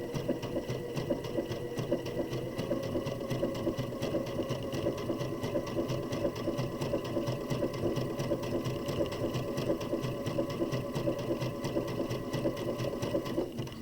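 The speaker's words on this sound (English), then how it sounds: "when I push the gas pedal, it's going to take a couple stitches and it's going to swing over to the right" A sewing machine runs steadily and quite close while stitching an overcast seam along the edge of fabric for a face mask, its rapid needle rhythm humming continuously with no talking.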